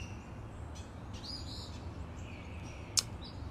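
Birds chirping outdoors with scattered faint high calls and one sharp nearby chirp late on, over a low steady rumble of background noise.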